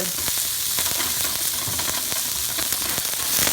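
Onions and vegetables stir-frying in a hot pan while cooking Vietnamese noodles with chicken and beef, giving a loud, steady, close crackling sizzle with scattered sharp pops and spatula scrapes throughout, no talking.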